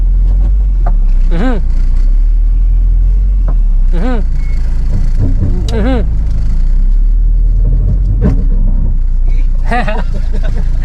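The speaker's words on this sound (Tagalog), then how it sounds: "Ang bira ka talaga pag nagkakaroon ka na sasakyan." A car engine revs hard in repeated loud rising surges over a constant low rumble, with people talking between and over the bursts.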